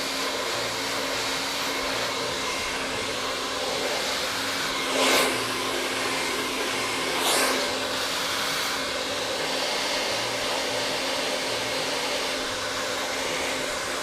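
A hair dryer fitted with a nozzle runs steadily close by while blow-drying hair, a loud continuous whooshing drone with two brief bursts of extra airflow midway.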